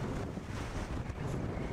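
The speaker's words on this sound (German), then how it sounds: "ich schreie jetzt nochmal gegen den Wind an" Strong outdoor wind buffets a microphone with a constant, loud, rumbling roar that fills the whole moment without a break.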